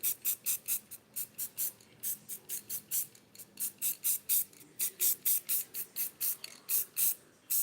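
A spray can fires rapid, regular short bursts over a stencil on a wood sign, about two dozen crisp hissing puffs in a steady rhythm at close range, with no voices.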